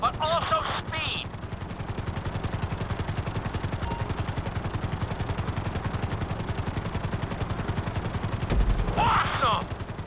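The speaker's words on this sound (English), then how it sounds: "we'll see how well you handle the chopper" A helicopter in the video game GTA 5 flies during a flight school course, its fast rotor chop pulsing steadily and loudly throughout, with brief bursts of game sound effects near the start and end.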